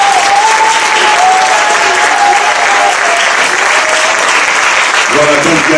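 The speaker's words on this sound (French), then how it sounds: "Je demande déjà qu'on l'acclame très fort" A concert audience gives loud, dense applause at a Requin Blindé show. The clapping holds steady throughout, with a faint voice or whistle line riding above it.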